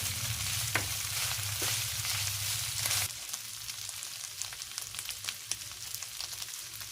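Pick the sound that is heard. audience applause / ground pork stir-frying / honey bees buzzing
ground pork stir-frying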